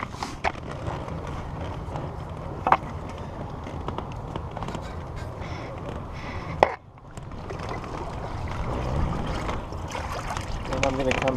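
Water sloshing and knocking against a small boat hull as someone shifts about, with a couple of sharp thumps and a brief lull partway through.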